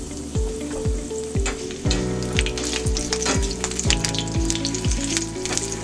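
Three green chillies sizzle and fry in hot oil with fenugreek in a pan, a steady crackling hiss close up with repeated soft popping bursts and no voices.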